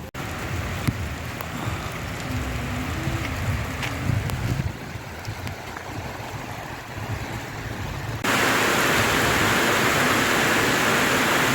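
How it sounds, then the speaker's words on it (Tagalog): Heavy rain pours at Calinog Town Plaza in Iloilo, a dense steady hiss that swells suddenly louder and stays constant to the end. "napakalakas ng ulan dito ngayon mga ka-arbs"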